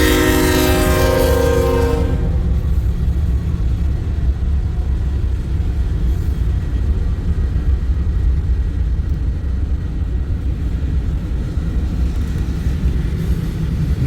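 A Union Pacific eastbound manifest freight train rolls past loud and close, opening with a blast of its horn over the heavy, steady rumble of the cars that continues throughout.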